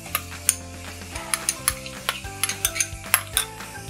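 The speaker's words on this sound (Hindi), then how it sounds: "इसको तब तक फ्राई करेंगे इसमें जब तक इसका कच्चापन जो है निकल ना जाए" Garlic-ginger paste sautéing in a pan during tawa pulao cooking, with a steady sizzle and repeated sharp clinks and scrapes of a spoon stirring against the metal, close up and with no talking.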